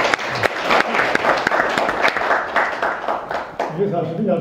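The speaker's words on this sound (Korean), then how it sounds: "박수 한번 더 보내주십시오." Audience applause at a Korean community leaders' forum, with dense, sustained clapping from a crowd filling the room, fading as it ends.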